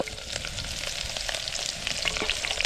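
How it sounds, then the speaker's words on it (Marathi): Onion, chillies and garlic fry in hot oil at an outdoor riverside cooking spot, giving a continuous crackling sizzle with scattered pops and a little stirring, all fairly close. "आता तेल तापलं आता कांदा टाकतो म्हटलं कांदा मिरच्या आणि लसूण"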